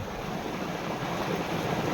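Water gushing from a running motor pump in a village, a continuous broadband rush of flowing water, steady and close with no pauses.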